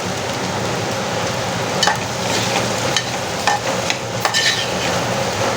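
Potato bhaji for misal pav sautéing in a pan, a steady dense sizzle with scattered stirring scrapes and clicks, close and continuous without any talk.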